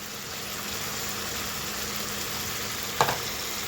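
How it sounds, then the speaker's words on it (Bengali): Spices frying in a pan with chilli, coriander powder and salt for an egg and potato curry, a constant low sizzle with one sharp utensil knock near the end, close and without speech. "এখন ভালো করে কষিয়ে নেব"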